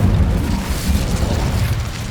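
A fiery Incendio spell blast from Hogwarts Legacy roars as a loud, sustained low-end rumble with a whooshing burst, steady across the whole moment with no voice over it.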